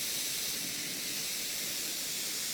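Steady hissing sizzle of vegetable broth hitting eggplant and garlic sauteing in a hot pan, an even, continuous spray-like hiss with no talk.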